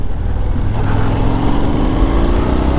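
2025 Indian Scout 101 motorcycle engine pulling hard in sport mode, a loud, steady drone with rising harmonic tones as it accelerates, close up under continuous wind rush.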